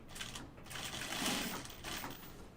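A sewing machine stitches a vinyl pocket bucket bag, its motor humming and needle chattering in a steady, close run that swells slightly in the middle, with no talking.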